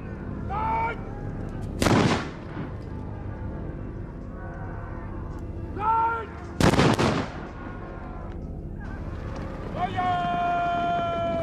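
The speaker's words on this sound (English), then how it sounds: "In 1575 at Nagashino Castle, the Takeda clan for the first time braved musket fire." Musket fire at the 1575 battle of Nagashino Castle, two sharp loud volleys several seconds apart over a droning background with voices and brass-like tones.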